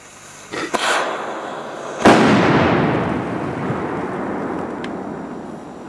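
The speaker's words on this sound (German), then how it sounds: "Polnische Variante. Color Salut, extra laut." A Polish Color Salut firecracker, sold as extra loud, fizzes with a couple of small pops before a single heavy outdoor bang that rolls away in a long, fading echo.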